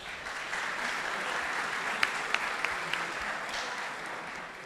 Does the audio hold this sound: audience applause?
yes